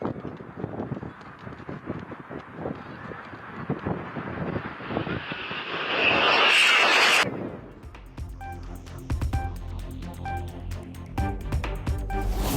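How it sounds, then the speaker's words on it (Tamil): An air force aircraft lands on the Purvanchal Expressway at Sultanpur, Uttar Pradesh, during an air show: a rising jet roar swells to a loud peak and cuts off abruptly, followed by wind buffeting and mixed outdoor noise. "உத்தரப்பிரதேச மாநிலம் சுல்தான்பூரில் பூர்வாஞ்சல் விரைவு சாலையில் தரையிறக்கப்பட்ட விமானப்படை விமானம்."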